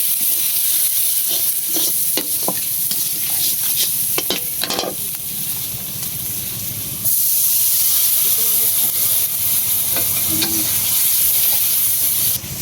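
Water is poured into a hot pan in a home kitchen, giving a loud, steady steaming hiss and sizzle that jumps up partway through and keeps going, with clinks of stirring and a few voices faintly in the background.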